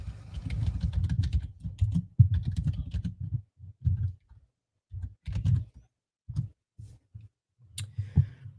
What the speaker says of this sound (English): Um, Reg Angel, let me type it out for you real quick.